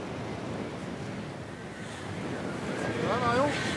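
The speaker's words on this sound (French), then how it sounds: "Le vent souffle à 40 km à l'heure. La houle est formée." Wind at about 40 km/h and a formed sea swell aboard the sailing ship Hermione make a continuous rushing wash that swells louder toward the end, with voices heard faintly in the background.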